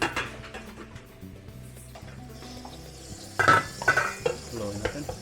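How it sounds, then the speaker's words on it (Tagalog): White onion is stirred in a pot for beef stew, with a soft sizzle under clinks and scrapes of a utensil against the pot that grow louder in the second half; no speech. "Haluin natin."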